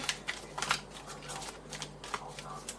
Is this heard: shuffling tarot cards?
yes